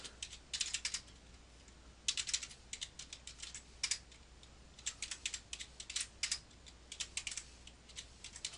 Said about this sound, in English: It's a little faster if I use the numeric keypad here,